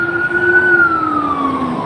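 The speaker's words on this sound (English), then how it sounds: "The ambulance is working against us right now." An ambulance siren wails along the Las Vegas Strip, its tone sweeping slowly downward as the vehicle passes, loud and fairly close over street noise.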